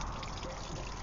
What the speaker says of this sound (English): But you can see I'm draining the water out